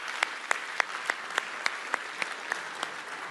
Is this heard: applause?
yes